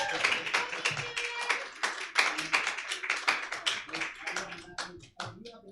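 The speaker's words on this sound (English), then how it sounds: "Give him a big round of applause." A small audience at a comedy magic show claps. The claps are sparse, distinct and fairly quiet, uneven in rhythm and thinning out toward the end, with some faint chatter underneath.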